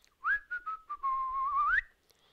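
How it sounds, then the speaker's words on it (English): A person whistles a short, clear melodic phrase of several quick notes sliding into a longer held, rising tone, alone in a quiet room. "You know what whistling is? To go like this."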